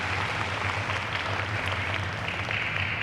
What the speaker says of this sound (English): clap for the blue shirts there